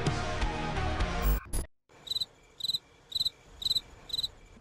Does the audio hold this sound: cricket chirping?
yes